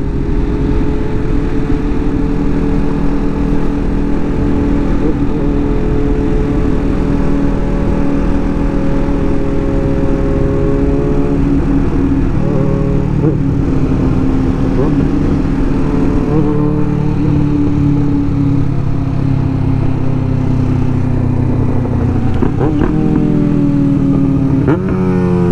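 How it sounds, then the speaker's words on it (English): A Yamaha R6 motorcycle fitted with a new loud exhaust rumbles nearby, a loud continuous engine drone with pitch shifts as it revs and settles. "his bike sounds so sick."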